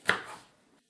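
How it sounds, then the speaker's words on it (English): A single crisp knife chop through vegetables on a cutting board, as they are cut into small pieces; one sharp close thud that fades out quickly, with no talking. "we'll just continue with the rest until they're all cut up into nice small pieces"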